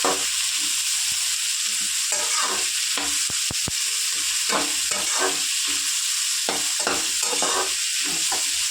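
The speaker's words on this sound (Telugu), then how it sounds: "ఇదిగోండి ఫ్రై అవుతుంది కదా" Vegetables for street-style spicy paneer fried rice fry in a pan, a loud continuous sizzle with repeated scraping stirs and sharp clicks of a spatula against the pan, close and with no voices.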